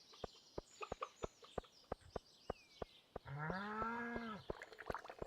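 A cow on a video game farm gives one long, clear moo amid a regular ticking of evenly spaced clicks, with faint clucking fowl around it.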